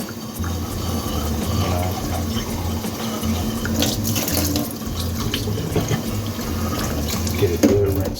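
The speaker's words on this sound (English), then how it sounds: "Get a good rinse on every dish." Kitchen tap running steadily into a sink while dishes are rinsed, a continuous close water rush with occasional clinks of crockery and faint talk underneath.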